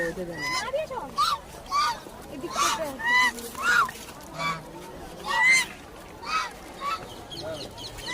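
Ducks honk over and over in a loose rhythm, several close, loud calls, some overlapping, with a faint background murmur.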